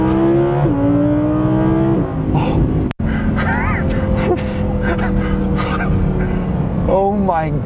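An Audi R8 V10 Plus engine roars hard under acceleration, pitch climbing and dropping with quick gear changes, while a person gasps and exclaims over the noise.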